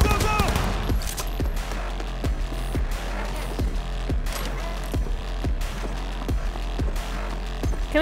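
Rapid bursts of video game gunfire in Cyberpunk 2077, sharp repeated shots at a steady rhythm over about eight seconds, with game music or ambience underneath and a voice talking over parts of it.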